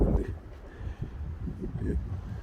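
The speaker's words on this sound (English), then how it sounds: "It's a bit windy" Gusty wind blows outdoors beside a 2022 Cupra Formentor 1.5 TSI, a steady low rumbling buffet on the microphone with a few stronger surges, and muffled talk under it.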